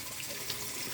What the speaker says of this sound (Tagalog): Banlawan natin ng tubig yan